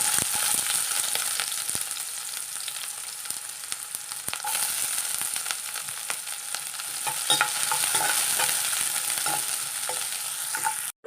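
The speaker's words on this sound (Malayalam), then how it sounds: "നമുക്ക് കുറച്ച് വെളിച്ചെണ്ണ ഒഴിച്ചു കൊടുക്കാം കുറച്ച് ഇഞ്ചി ഇട്ട് കൊടുക്കാം കുറച്ച് ചെറിയ ഉള്ളി ഇട്ട് കൊടുക്കാം" Ginger and small onions frying in coconut oil in a kadai give a steady close sizzle, with spoon stirring and scraping clicks scattered throughout.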